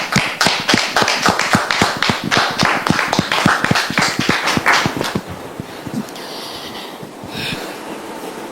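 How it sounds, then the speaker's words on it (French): An audience at a church gathering claps steadily for about five seconds to welcome guests, and the applause is fairly loud and close before it drops away to a quiet room. "Merci de les recevoir avec vos applaudissements."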